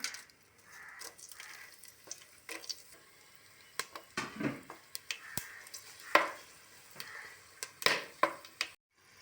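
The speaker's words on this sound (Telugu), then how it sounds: "ఆయిల్ హీట్ ఎక్కాక బిర్యానీ సామాన్లు వేసుకోవాలి." Whole biryani spices crackle and sizzle in hot oil for green chicken biryani, with spoon scrapes and clinks against the pot between short, uneven bursts of frying.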